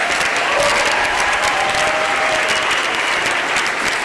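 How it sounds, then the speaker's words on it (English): Audience applause at an elementary school Veterans Day program honoring veterans and fourth graders, a dense, steady wash of clapping from a large crowd filling the room for the whole stretch. "Let's also give our fourth graders a round of applause."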